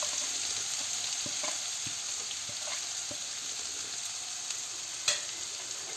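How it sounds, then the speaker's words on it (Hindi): Onions fry in oil in a pan for black chana masala, a steady broadband sizzle running throughout with occasional soft clicks of a spoon and one sharper tap near the end; no one speaks. "प्याज को जब तक ब्राउन नहीं होता तब तक भूनते रहेंगे"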